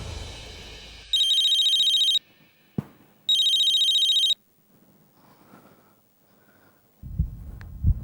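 Two loud electronic rings from a phone line, each about a second long with a pause between, followed by quiet hum and faint rustling.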